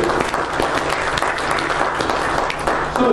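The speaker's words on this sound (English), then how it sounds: "Give the Lord a hand clap of praise." A church congregation claps in praise, a dense, steady burst of many hands that stays loud and even throughout with no talking over it.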